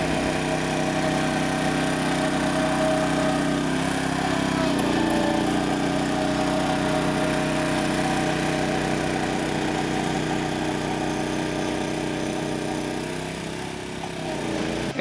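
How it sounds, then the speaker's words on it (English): Greens rollers running over freshly aerified, sand-topdressed golf course greens, giving a steady, fairly loud engine drone with a light high-pitched whine that holds constant throughout, with no voices. "We've got the rollers out on the greens today, so it'll help smooth out any ruts left behind from the equipment being on the greens."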